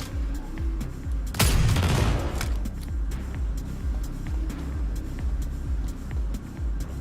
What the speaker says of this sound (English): These traps are pretty easy, just shoot them.